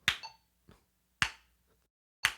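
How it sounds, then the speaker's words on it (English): Four crisp hand claps land in a steady beat, each close and sharp. Fainter metronome clicks fall between them in an otherwise quiet room. "then you're going to do one clap with every single click"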